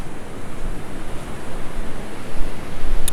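Ocean waves break on the sandy beach at Lunan Bay, a continuous rushing surf close by, mixed with wind buffeting the microphone.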